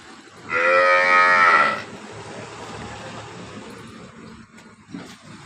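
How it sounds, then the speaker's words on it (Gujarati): A tall, long-bodied dairy cow that recently calved gives a single loud, drawn-out moo lasting about a second, then a quieter background of farmyard noise follows. "ઊંચી અને લાંબી ગાય છે"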